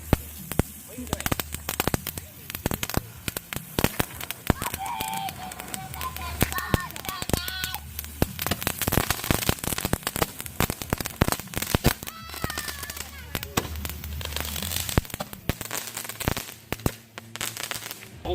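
Fireworks crackle and burn with green fire, giving dense rapid popping and sizzling throughout, with voices talking and exclaiming nearby.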